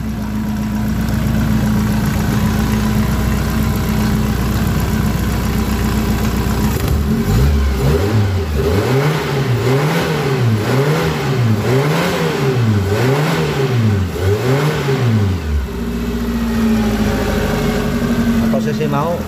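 A Suzuki Carry 1.0 injection engine idles, then is revved repeatedly in a rising-and-falling rhythm while its ignition distributor timing is adjusted, before settling back to idle; a voice talks over the engine.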